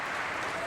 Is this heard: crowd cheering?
yes